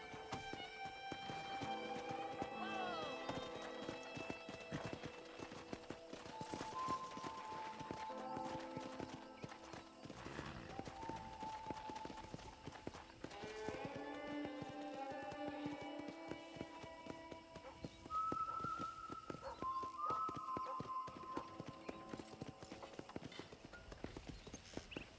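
Horse hooves clip-clop in a steady rhythm on a ranch in Red Dead Redemption, running continuously under melodic background music, with occasional whinnies.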